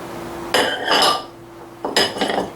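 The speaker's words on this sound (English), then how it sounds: "I'm just going to whisk that up" Crushed graham crackers, salt, baking powder and flour being whisked in a bowl, two bursts of bright metallic clinking and scraping against the bowl, close and fairly loud.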